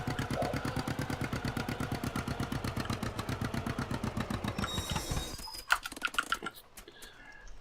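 A twin-cylinder tractor engine putters in a steady, even rhythm of close thumping pulses, then cuts out and is followed by a few knocks and clunks.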